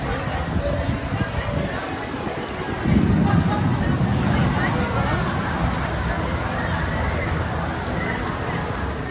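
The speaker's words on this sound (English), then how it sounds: "It is pouring down rain." Heavy rain pours steadily at Epcot in Walt Disney World, a dense wash of close hiss that swells louder partway through as gusts blow, continuing unbroken with no voices.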